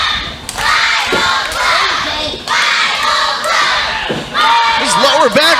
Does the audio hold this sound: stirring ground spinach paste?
no